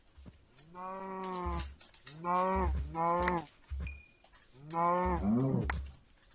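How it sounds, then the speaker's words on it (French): Several cow moos from the video game Minecraft, four or five drawn-out lowing calls in quick succession, fairly close and clear with no talking over them. "en plus il y a des vaches"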